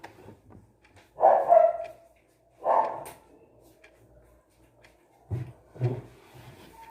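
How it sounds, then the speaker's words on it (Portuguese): A pet dog barks indoors in a quiet home, giving four fairly close, moderately loud barks in two separate pairs with silent gaps between them. "Olha, meu cachorro bem aqui."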